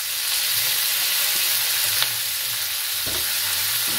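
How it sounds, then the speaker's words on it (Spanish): Chicken and onion stir-fry with soy sauce and a splash of vinegar in a hot pan, giving a loud, steady bright sizzle, with occasional scraping and tossing clatters from the stirring, no voices. "Y continuamos salteando."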